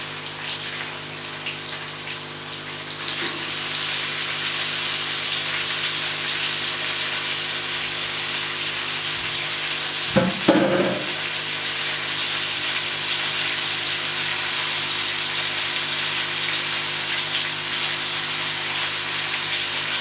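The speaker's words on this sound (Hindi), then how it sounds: "अब हम इसमें चिकन डालेंगे।" Large chicken pieces drop into a pan of onion and tomato, and a loud, even sizzle starts up and holds steady, broken once midway by a brief clatter of stirring.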